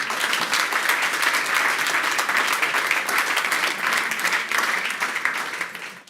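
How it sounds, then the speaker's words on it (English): Conference audience at a last-mile delivery tech meetup applauding loudly and steadily, dense clapping sustained throughout before tapering off at the end. "Give yourself a big applause."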